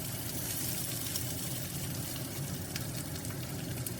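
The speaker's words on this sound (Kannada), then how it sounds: "ಇವಾಗ ಒಂದು ಈರುಳ್ಳಿ ಒಂದು ಉಳ್ಳಾಗಡ್ಡಿ ಉದ್ದಕ್ಕೆ ಕಟ್ ಮಾಡಿ ಹಾಕ್ಕೊಳಕತ್ತೀನಿ" Sliced onion sizzling in oil in a pan of frying carrot rice, a steady close, dense crackling hiss with faint stirring scrapes and no voice.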